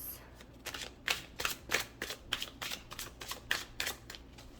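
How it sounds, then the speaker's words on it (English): Tarot cards being shuffled in a steady series of crisp riffling bursts, about ten quick slaps and flutters close to the mic with a faint background hiss. "Oh, that is so many cards. I'm going to keep shuffling."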